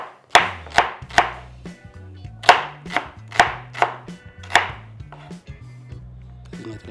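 A knife chopping an onion into thin slices on a board, about ten crisp, sharp strikes in an uneven rhythm, close and clear, with a low background hum between cuts.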